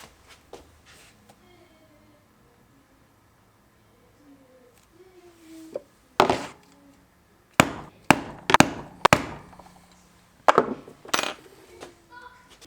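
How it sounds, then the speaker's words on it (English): A small crescent moon shaped blade rounds off the corners of a leather slim wallet, giving several sharp, distinct cuts and knocks in irregular succession, close and fairly loud, after a quieter stretch with faint background murmur. "just round the corners off with this little crescent moon shaped blade"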